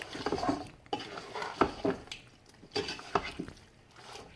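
Spiced meat being stirred in a pot for Nigerian okra soup, with scraping and clinking of a utensil against the pot in uneven bursts, close and moderately loud, with no talking.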